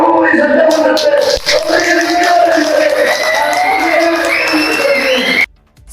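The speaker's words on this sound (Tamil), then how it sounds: "தமிழக வெற்றிக் கழக தொண்டர்கள் கைதட்டி ஆரவாரம் செய்தனர்" Tamil Nadu political party workers clapping and cheering at a gathering, a loud, dense crowd roar of applause and shouts that holds steady before cutting out abruptly near the end.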